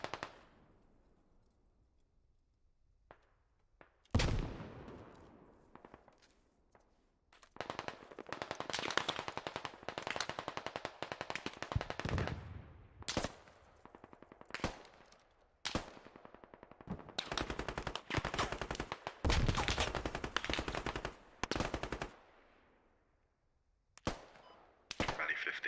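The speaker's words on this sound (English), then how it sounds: "Bro, there's bullets going everywhere right now." Bursts of automatic gunfire in a military shooter video game crackle in dense, loud volleys, broken by short quieter gaps and a few isolated shots.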